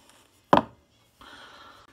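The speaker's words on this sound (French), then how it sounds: "Avec un couteau, on va les hacher comme ça en tapant vers le bord." A knife chops grilled aubergines with one sharp tap against the board, followed by a soft scraping smear, close and alone without talking.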